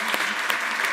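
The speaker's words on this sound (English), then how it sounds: "a big round of applause for Natalie" A fan forum audience applauds, a dense steady clatter of many hands held at an even level through the short moment, with slight swells but no voices rising above it.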